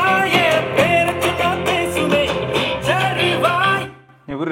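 Music blares at full volume from a Portronics Sound Drum P 20W portable speaker, loud and bright with a steady beat and melody, cutting off abruptly near the end.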